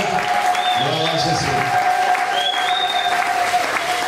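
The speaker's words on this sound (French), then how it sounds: "Acclame pour la puissance de Dieu qui est là." Church congregation applauding during a French-language worship service, with sustained clapping throughout, a voice calling out over it, and a steady tone held underneath.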